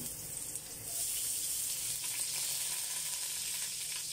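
Beef sizzles steadily in a little oil in a pan, an even broadband hiss that picks up after a brief quieter start and holds constant, with no talking.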